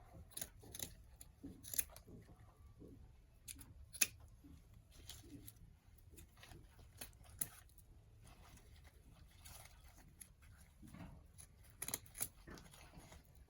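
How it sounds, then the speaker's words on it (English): Scissors snipping pine tails for a natural Christmas swag, a scattering of quiet, sharp cuts spread across a soft background with faint rustling. "I'm ready to cut my tails. So I'm just going to cut those."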